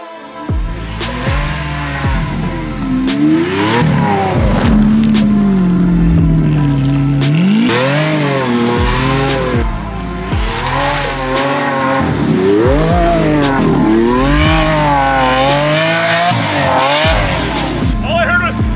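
A Lamborghini Aventador ploughs through deep snow, its engine revving and surging loudly and close, with pitch rising and falling through repeated bursts of acceleration.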